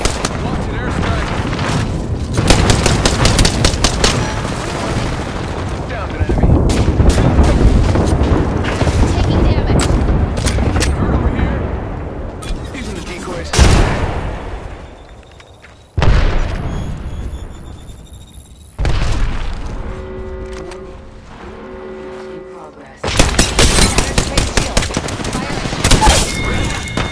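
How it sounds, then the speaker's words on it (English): In Apex Legends, an airstrike brings loud rolling explosions and fusillades of gunfire in several long, heavy bursts separated by quieter gaps, with voices heard at times among the blasts. "Watch an airstrike."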